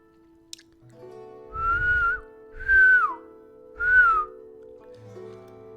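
A person whistles one steady tone in three separate bursts, each clear and close with a slight downward slide at the end, with a low hum in the background between them.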